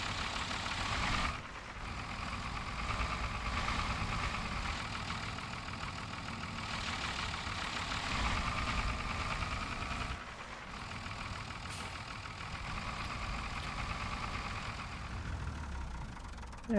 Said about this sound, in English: got that tractor up there, I got it running